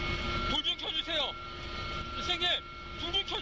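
Steady engine drone inside a helicopter on a night flight, carrying a medical emergency, running loud and continuous under frequent nearby talking.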